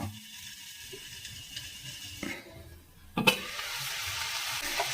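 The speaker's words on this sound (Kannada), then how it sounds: "ಈಗ ಲಿಡ್ ಕ್ಲೋಸ್ ಮಾಡಿ ಮತ್ತೆ 1 ರಿಂದ 2 ಬಾರಿ ಮಿಕ್ಸ್ ಮಾಡಿಕೊಂಡು ಒಂದು 4 ರಿಂದ 5 ನಿಮಿಷ ಫ್ರೈ ಮಾಡ್ಕೊಳ್ಳೋಣ" Drumstick leaves frying in a covered pan, a steady broadband sizzle that swells louder after a brief clatter of the lid or spoon partway through, with no talking.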